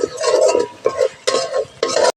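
Mustard paste with mustard oil being stirred and fried in a pan for a Bengali pabda fish curry: a few bursts of scraping and sizzling, close and fairly loud, separated by short pauses.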